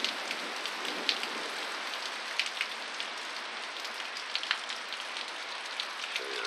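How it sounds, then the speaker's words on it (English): Steady storm rain falling and pattering on surfaces, running off a roof, with occasional louder drips standing out against the continuous hiss. "Show you the rain here."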